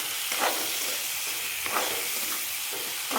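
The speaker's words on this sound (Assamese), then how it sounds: "মই এনেকৈ মাংসখিনি এতিয়া ভাজি ল'লোঁ।" Chicken meat frying with spices and salt in a home kitchen: a continuous hissing sizzle, broken every second or so by brief scraping bursts of stirring, with no voices.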